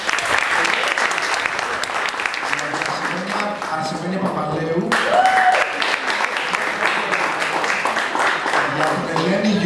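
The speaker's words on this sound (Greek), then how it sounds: "Ένα χειροκρότημα για τον καθένα ξεχωριστά" Audience at a guitar department recital clapping for each performer in turn, steady moderate applause throughout with voices mixed in underneath.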